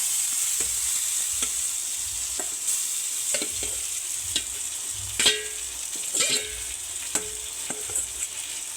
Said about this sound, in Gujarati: આપણો મસાલો બરે નહીં ત્યાર પછી આપણે બટેટા જે સુધારેલા છે એ નાખી દેશું આપણે તેમાં